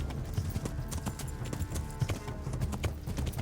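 Horse hooves clip-clopping at a steady brisk trot in a medieval video game, a close and rhythmic series of hoof beats with no talk over them.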